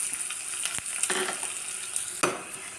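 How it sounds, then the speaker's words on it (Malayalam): Small onions and curry leaves frying in coconut oil in a pan for potato masala curry, a continuous close sizzle with a few sharp stirring clinks and scrapes, no talk. "ഉള്ളി മൂപ്പിക്കാൻ വേണ്ടി ചീഞ്ചട്ടി അടുപ്പത്ത് വെച്ചു"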